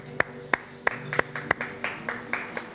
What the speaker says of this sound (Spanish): pido un aplauso para Miguel